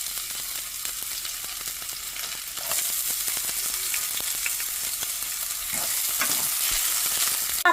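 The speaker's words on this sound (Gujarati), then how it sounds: "તેલ ગરમ થઈ ગયું છે એટલે હવે પહેલાં નાખી દેવાની છે ડુંગળી" Onions hit hot oil and fry with a loud, continuous crackling sizzle that swells partway through and carries on close and steady to the end.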